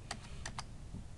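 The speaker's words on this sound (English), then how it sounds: "I'm going to click right here and type" Several quick keystrokes on a computer keyboard, four light clicks in a short burst, faint and close in a quiet room.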